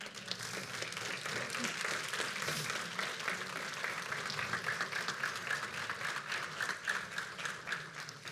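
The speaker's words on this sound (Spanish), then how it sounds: "¿Le das un aplauso al Señor?" A church congregation applauds during a Sunday sermon, a continuous, moderately distant wash of many hands clapping that stays even and sustained for several seconds with no speech over it.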